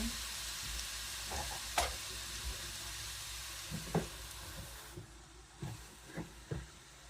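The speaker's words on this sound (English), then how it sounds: "And then it steams and softens the vegetables or whatever you have." Vegetables softening as water steams in a hot pan, a continuous hiss and sizzle with occasional stirring clatters and scrapes, close-up and moderately quiet.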